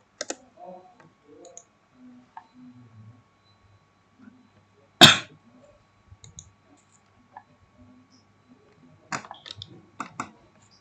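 Keys on a computer keyboard being typed in short scattered bursts with one louder click near the middle, fairly close and quiet, with no talking over them.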